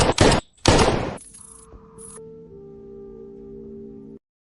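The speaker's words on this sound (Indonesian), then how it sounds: "membunuh dengan tembakan berkali-kali" Two loud, abrupt gunshot blasts in quick succession, followed by a low sustained electronic drone that hums on before cutting out.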